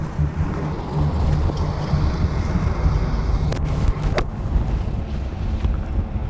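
Wind gusting across an outdoor golf course, a steady low rumble of wind noise buffeting the microphone throughout, fairly loud and continuous with brief crackles, no talk.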